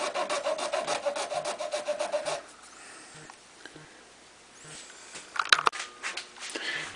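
A large, coarse file cutting a groove into a pen cap on a lathe, a close rasping stroke pattern that runs steadily for a couple of seconds, then quieter scraping and a few sharp knocks.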